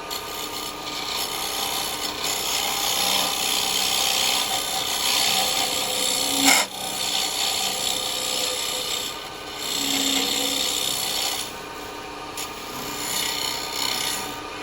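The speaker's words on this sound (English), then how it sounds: "just roll your chisel over a little bit and come backwards and you'll be alright" A square carbide chisel scrapes steadily against a spinning yew wood vase on a lathe, producing a continuous close rasping hiss with brief shifts in pressure and a motor hum underneath.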